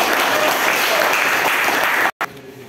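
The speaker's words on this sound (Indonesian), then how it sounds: "Oke, beri tepuk tangan." A class of schoolchildren clapping together, dense and steady, breaking off abruptly near the end before a brief resumption.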